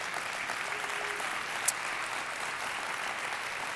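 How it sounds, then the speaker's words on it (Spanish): Church congregation applauding during a sermon, a steady, even wash of clapping from a full room that carries through the whole moment, with one sharp clap standing out near the middle. "Vamos a darle un aplauso a Dios."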